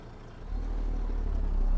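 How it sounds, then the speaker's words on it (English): A car drawing near on the road, heard from inside a truck near Spokane, Washington, a low engine rumble that swells and grows louder over a couple of seconds with no talk over it. "there's a car coming"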